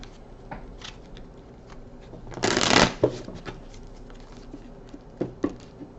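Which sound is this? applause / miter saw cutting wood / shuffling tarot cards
shuffling tarot cards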